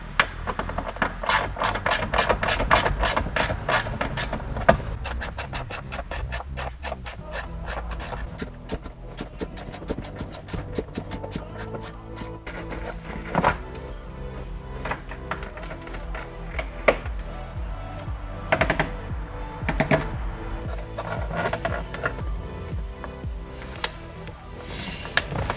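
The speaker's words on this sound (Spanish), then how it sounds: "cogemos un Torx 20 y vamos quitando los tres tornillos que hay aquí." A Torx 20 driver backs out three screws from interior trim on a BMW E46 323Ci, giving dense runs of rapid ratcheting clicks and scraping plastic-and-metal rubbing, close and steady, with no talking.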